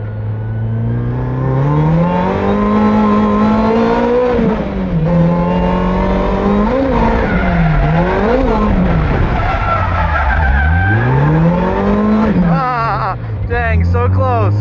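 A Toyota AE86 fitted with a supercharger laps a race track, its engine droning loud and close and rising and falling through gear changes while the tires squeal through corners, with voices faintly mixed in.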